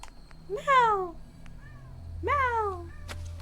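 A pet cat meows twice, close by and clear, with a quiet pause between the two calls.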